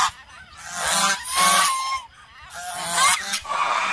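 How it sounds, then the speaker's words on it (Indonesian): A goose honks loudly and close by in a series of about four harsh, nasal calls, each lasting around half a second, with short pauses between them. "angsa teman-teman."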